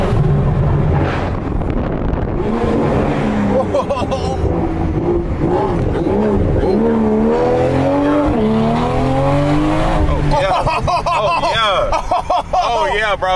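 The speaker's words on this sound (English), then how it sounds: "Hold on, we gotta hear the pops going." A BMW M340i heard from inside with the windows down, the engine revving hard and downshifting with exhaust pops and crackles, plus wind rush and the occupants talking excitedly over it.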